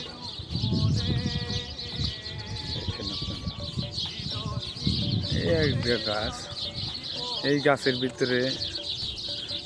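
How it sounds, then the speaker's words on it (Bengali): Many small birds chirp together in a roadside tree outside a hospital in Dammam, Saudi Arabia, a busy, high twittering that runs throughout beneath someone speaking. "সব ছোট ছোট পাখি আছে, অনেক কিচিমিচি করে"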